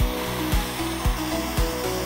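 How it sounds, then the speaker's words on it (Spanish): An electric drill with an 8 mm bit bores into melamine board. The close, steady motor whine surges under load in regular pulses about twice a second, with nothing else heard. "Esta es mi parte favorita, vamos a perforar."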